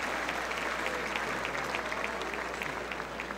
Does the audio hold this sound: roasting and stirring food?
no